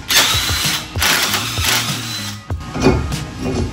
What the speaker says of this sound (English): We'll insert the nut back in to secure it in place.